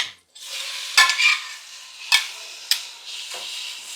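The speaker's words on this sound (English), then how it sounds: "we lower the gas a little bit, and now we put the shrimp" Shrimp for shrimp spaghetti hits a pan over lowered gas, giving a loud crackling sizzle with several sharp spatters and stirring scrapes.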